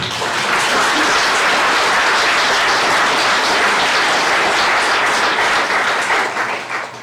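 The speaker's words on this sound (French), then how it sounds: "Nous pouvons applaudir Verlinghem." Dense, loud applause from an audience at a mayor's New Year address in Verlinghem, continuous and enthusiastic, easing slightly toward the end.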